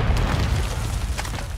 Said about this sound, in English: Watch out, the mortar's coming down right here.